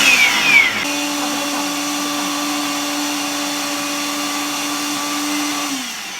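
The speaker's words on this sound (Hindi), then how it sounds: "अब हम ये चटनी को ब्लेंड कर लेंगे।" Kitchen blender whirring through boiled tomato chutney, starting abruptly with a loud steady motor whine that holds for several seconds, then winds down at the end.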